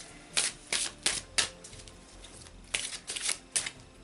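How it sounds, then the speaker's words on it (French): Oracle cards shuffled for a card reading, a cluster of crisp riffling flutters followed by a pause and a second run of quick papery snaps, close and quiet with no speech. "je vais vous donner le tirage conseil avec mes messages d'amour de Jésus"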